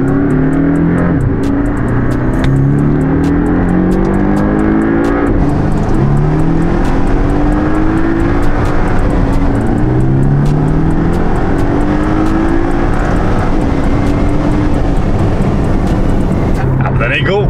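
A Porsche sports car engine revs and accelerates in rising sweeps, heard from inside the car, loud and close throughout.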